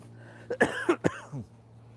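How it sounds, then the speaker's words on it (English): A person coughs a few times in quick, close bursts with a faint throat-clearing rasp, against a quiet steady hum during a live airport plane-spotting broadcast. "try not to hold back the coughs"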